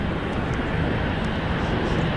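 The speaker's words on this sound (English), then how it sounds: "I think there's a go-around happening right now" A jet airliner carrying out a go-around at San Francisco International Airport produces a steady, moderately distant engine rumble throughout, with no other sound standing out.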